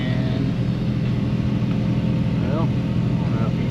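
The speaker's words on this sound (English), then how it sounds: "Okay, so engine's fully warmed up" A warmed-up engine of a Chevy 1500 OBS pickup truck idling, a steady low rumble filling the background continuously and loudly throughout.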